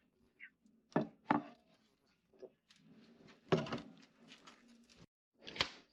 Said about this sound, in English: cut the potatoes